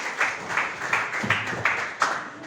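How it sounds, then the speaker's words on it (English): An audience at an awards ceremony claps in uneven bursts, a moderate round of applause with a few sharper peaks, fairly close and unaccompanied by speech. "Another round of applause for the Executive Director and the Prince himself"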